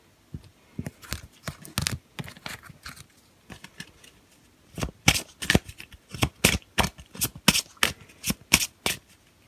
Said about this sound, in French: je brasse mes cartes